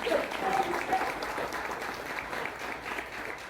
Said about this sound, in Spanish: Denle el aplauso a Cristo